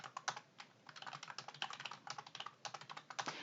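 Rapid typing on a computer keyboard with an Enter key press, a dense run of close, crisp key clicks in an uneven rhythm with no talking.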